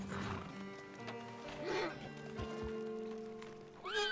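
Horses in the Red Dead Redemption 2 video game give a whinnying call and snorts over steady game ambience and low rumbling, with a brief neigh-like cry near the end.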